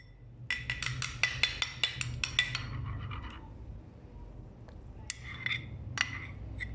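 Marinated chicken being mixed with cornflour and egg in a bowl: a quick run of bright clinks as a utensil strikes the bowl, then a lull and a few more scattered clinks, fairly close and with no talking.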